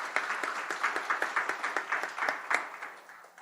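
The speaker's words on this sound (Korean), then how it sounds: "박수 한번 하도록 하겠습니다" A church congregation applauds the choir during a Sunday worship service, rapid scattered clapping from many hands in a reverberant hall, steady and moderate, fading slightly toward the end.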